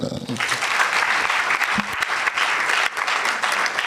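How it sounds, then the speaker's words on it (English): Steady applause from an audience at a national science and maths quiz opening ceremony welcoming a sponsor speaker, continuous dense clapping at an even level with a faint voice underneath. "Please, a round of applause."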